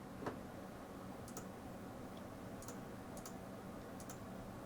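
Computer keyboard arrow keys pressed repeatedly, faint light clicks in small pairs and clusters at irregular intervals over a quiet background hiss.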